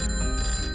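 A telephone rings with a steady, bright electronic tone held for under a second, fairly loud and with no voices over it.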